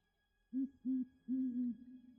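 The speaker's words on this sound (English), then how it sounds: "Oh, that sounds like an owl." Owl hooting three times in a low, even rhythm, the last call drawn out into a double note, clear and isolated against quiet background.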